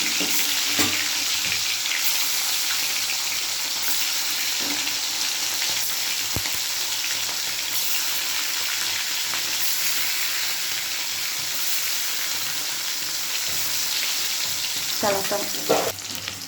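Paneer pieces fry in hot oil with a loud, continuous sizzle and crackle, and brief clatters near the end as the pieces are stirred or moved.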